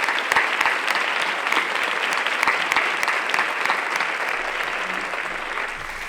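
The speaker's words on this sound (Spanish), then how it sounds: "Le damos la enhorabuena por ello, porque lo acaba de recibir. Un aplauso." Audience applause for an author at a public talk, dense sustained clapping from a full room, steady and fairly loud for about six seconds.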